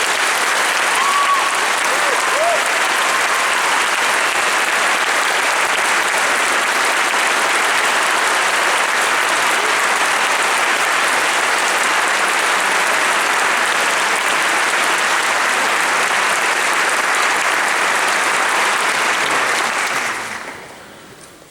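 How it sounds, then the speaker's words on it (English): At a 2014 graduation ceremony at Athens Academy, an audience applauds the graduating class with loud, sustained clapping that fills the hall for about twenty seconds before fading out. "applaud the class of 2014"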